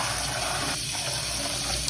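Green beans being washed under running water at a kitchen sink, a steady close gush of tap water flowing continuously without pause.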